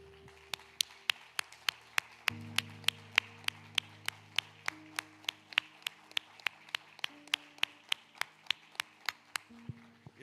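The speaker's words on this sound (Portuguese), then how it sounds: "Vamos aplaudir Jesus" A church congregation claps in a steady, even rhythm at about three beats per second, with sustained keyboard chords underneath. The clapping carries on for around ten seconds with no talking.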